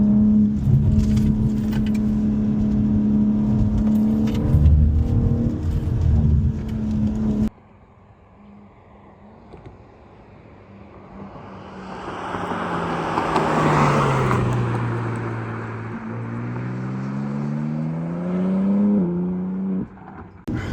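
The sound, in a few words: BMW M4 Competition engine while driving on California roads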